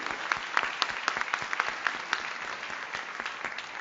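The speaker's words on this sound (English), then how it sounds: "Great round of applause for Jay Smith." Audience applause for a keynote speaker at an agile international business conference, a steady dense patter of many hands clapping at moderate loudness, sustained throughout without letup.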